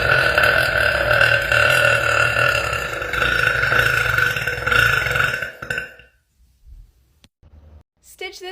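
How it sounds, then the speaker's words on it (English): A young woman lets out a long, loud, drawn-out burp that lasts several seconds, then stops abruptly. A brief quieter sound follows after a pause. "Stitch this with your best burp to win a hundo."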